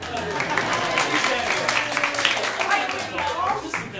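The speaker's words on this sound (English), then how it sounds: "Very enthusiastic applause for Jen, and a slightly less enthusiastic applause for Cameron" Audience applause at a comedy improv showcase, moderate clapping with some crowd noise and voices mixed in throughout.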